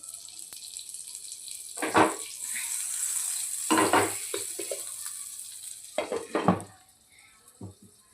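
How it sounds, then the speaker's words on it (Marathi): Butter hits a hot pan and sizzles, a steady hiss broken by a few louder bursts as the pan and utensil shift, close and fairly quiet with no talking. "आता यावरती मी थोडंसं बटर ॲड करते"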